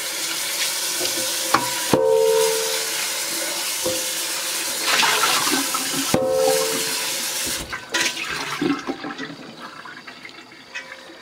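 Water runs into and swirls around a greasy cast iron pan as it is rinsed, a continuous splashing rush broken by a few clanks of the pan.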